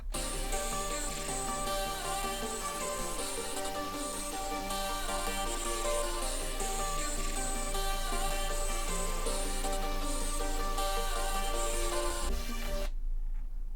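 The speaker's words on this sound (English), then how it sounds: "all of the melody layers sound like this" Bright, layered synth melody with stacked harmonic lines playing continuously at steady loudness, then cutting off abruptly near the end.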